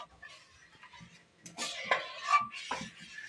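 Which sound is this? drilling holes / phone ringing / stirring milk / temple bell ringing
stirring milk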